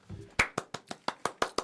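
A few hands clap together in a quick, slightly uneven run of eight or so sharp claps, close and fairly quiet, with no talk over them.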